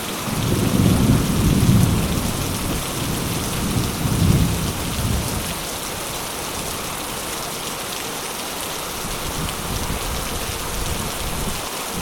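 Rain drumming steadily on a tent during a wild camping trip in bad weather, with low rolling thunder swelling twice early on before the storm settles into a constant hiss of rainfall.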